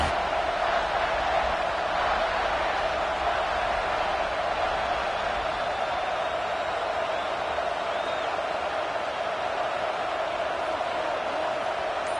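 A football stadium crowd sends up a steady, dense roar as the field goal unit lines up for a big kick. The broad wash of noise holds at an even level throughout, with no distinct voices standing out.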